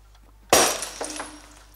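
A decorative glass object shatters in one sudden loud crash, followed by a short spray of tinkling shards settling, with no voices during the break.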